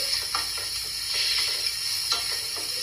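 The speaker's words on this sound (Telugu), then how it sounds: "జస్ట్ ఇలా మంచి స్మెల్ వచ్చే వరకు మనము దీన్ని ఫ్రై చేయాలి." Mushroom soup ingredients fry with pepper in a pan, giving a soft, steady sizzle with light ticking stirs throughout.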